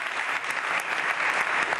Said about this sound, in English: Applause for Jaspers Bomdahl.